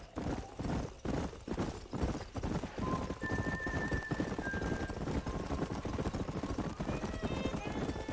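Galloping horses from the video game Red Dead Redemption, a dense, steady rumble of hoofbeats running throughout with a few brief tonal game sounds and faint talk layered over it.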